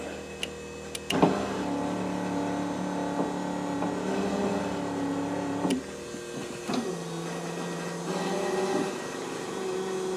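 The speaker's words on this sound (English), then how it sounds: "here we go on the test for the passenger side switch." Electric window motor in a 1981 Alfa Romeo Spider Veloce whirs steadily as the passenger-side switch is tested, with a couple of sharp clicks at the start and a brief pause and restart midway, heard close inside the car.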